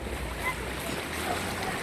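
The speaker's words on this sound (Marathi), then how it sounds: "पाऊसच आलेली आहे देवा देवा देवा देवा देव आता काही खरं नाही" A dense, steady wash of heavy rain and flooding drain water in Pune, loud and broadband, with wind buffeting the microphone throughout.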